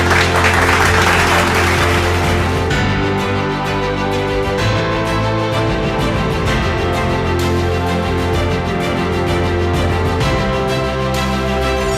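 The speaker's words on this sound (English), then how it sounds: "please keep your applause going" An award-ceremony audience keeps up sustained, thick applause as TVS Motor Company is named winner of the private-sector manufacturing category. The loud clapping fills the hall steadily for the full twelve seconds, with a faint musical drone underneath.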